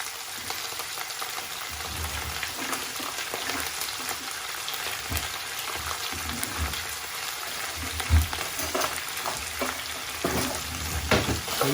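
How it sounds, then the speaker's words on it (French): Goat kid meat, bone-in shoulder pieces for a tajine with squash, searing in a hot pan: a steady, close, loud sizzle and crackle runs throughout, with occasional stirring scrapes and no talk. "On va laisser saisir"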